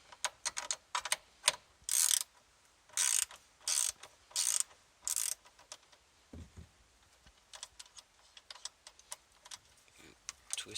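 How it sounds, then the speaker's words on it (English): A 10mm ratchet loosens a battery terminal on a Dodge Challenger SRT8 6.1L Hemi, giving bursts of rapid, close clicking in several short runs, with scattered lighter taps and handling noises between them. "Grab your 10mm ratchet."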